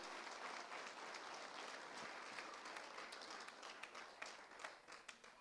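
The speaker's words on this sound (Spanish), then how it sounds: "Apláudele al Señor por su propósito." A church audience applauding in a steady, moderately faint wash of claps that thins toward the end, leaving a few scattered individual claps.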